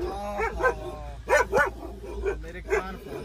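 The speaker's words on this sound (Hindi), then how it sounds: "बाकी डॉग इसको जब देखता है ना गाड़ी से तो बहुत ज्यादा पागलों जैसे भौंकने लग जाता है उनके ऊपर" Gunnu the dog barks from inside a car, a run of loud, close yelps and barks in uneven bursts over low engine rumble.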